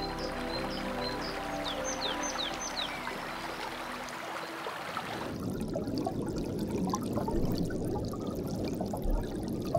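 A springtime brook lined with snowflake flowers flows with a steady close rush of water, birdsong audible faintly over it in the first half before the flowing water dominates alone.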